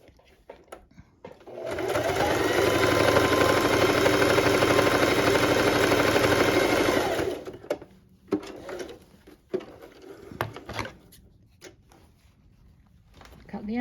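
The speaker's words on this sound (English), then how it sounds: "Now I'm going to sew along, just to sew this little pocket closed." Sewing machine stitching a fabric face mask pocket closed runs in one steady, close, buzzing burst for about five seconds, followed by scattered handling clicks and rustles of fabric.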